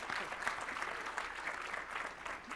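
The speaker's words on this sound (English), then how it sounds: "everyone that's clapping" Audience applause at a technical conference session, a continuous patter of many hands clapping, soft and somewhat distant, steady throughout.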